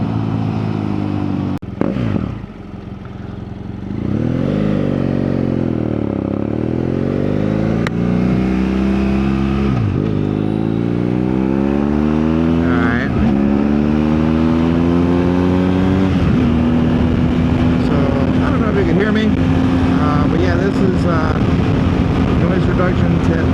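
Motorcycle ride at about 60 mph with engine revving and shifting through gears, rising and falling pitch sweeps under steady, loud wind rumble, captured on a DJI Mic Mini.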